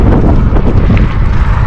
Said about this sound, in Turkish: Rüzgar çok güçlü esiyor karşıda.